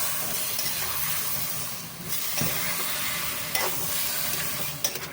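Meat seasoned with salt and fine pepper sizzles loudly in a hot pan as it browns, a dense continuous frying hiss with occasional stirring scrapes.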